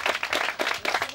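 Wedding guests clap for the groom Feqan in a burst of applause, a dense patter of many hands that swells and dips in quick waves over a little more than a second, fairly loud and without talk.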